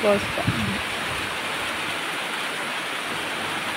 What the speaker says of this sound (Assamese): এতিয়া বৰষুণ আহি গ'ল, পানী দি দিছে দেই